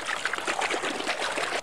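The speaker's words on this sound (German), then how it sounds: "Das Wasser kommt ja schon rein in das Blatt." Water trickles and splashes steadily into a leaf in a cartoon, a bright, continuous burbling flow heard close and alone.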